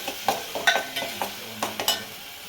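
Slit green chillies frying in hot oil for a traditional tamarind curry, a bright crackling sizzle punctuated by quick stirring scrapes and small spattering pops, close and continuous.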